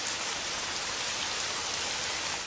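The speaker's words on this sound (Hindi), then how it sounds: "स्वामी, ये बिना मौसम की गुजरती हुई बारिश हमें क्या संकेत देती है?" Steady, dense rain falls continuously, a loud even hiss of drops on surfaces with no pauses and no voices.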